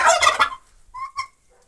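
A turkey gobbles loudly up close in a farmyard with chickens, followed by a pause and a few softer, higher bird calls.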